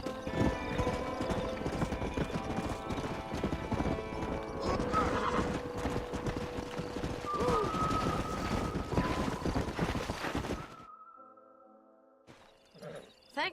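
Horses' hooves clip-clop steadily in Red Dead Redemption, a dense rhythmic patter under music with an occasional whinny, then cut off near the end, leaving sparse quieter sounds.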